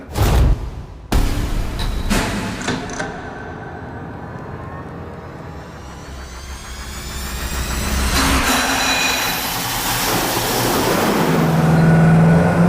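A V8 engine fitted with a cheap low-buck muffler, cranking and starting, then settling into a deep steady idle rumble that builds into a louder, rising revving roar.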